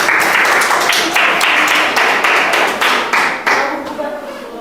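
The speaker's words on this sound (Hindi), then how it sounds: "रुक्मणी मुर्मू के लिए भी एक जोरदार ताली होना चाहिए।" Loud, close group clapping for a contestant in a children's general-knowledge quiz, a dense burst of hand claps that thins into a few separate claps and fades over a few seconds.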